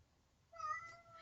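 A cat gives a single short meow that rises out of near silence. It sounds close but fairly quiet.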